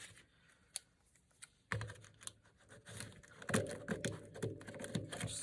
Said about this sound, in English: I'm going to cut this tape away.